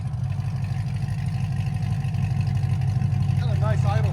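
A 2008 Chevy Corvette Z06 with its 7.0L V8, headers and a Kooks shotgun cat-back exhaust rumbles loudly and steadily, building slightly toward the end while a voice speaks over it.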